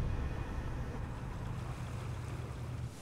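Eight tugboats with a combined 60,000 horsepower tow a massive tunnel tube across the open sea, giving a steady, continuous low rumble with wind buffeting the microphone and no voices.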